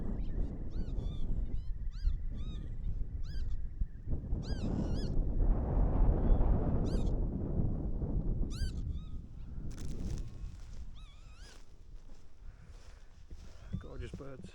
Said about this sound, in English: Lapwing's so loud. I love those birds.